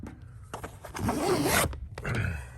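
A tight zipper on a soft Wild Top truck cap cover for a Jeep Gladiator is pulled in a long, loud rasping run lasting about a second, framed by shorter tugs and scrapes before and after.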